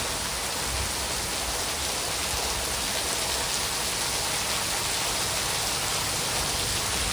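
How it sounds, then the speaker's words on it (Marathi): Heavy rain pours down steadily, a dense, even hiss that fills the whole clip with no pauses and no voices. "तुम्ही बघत आहात पाऊस किती जोरात आला आहे"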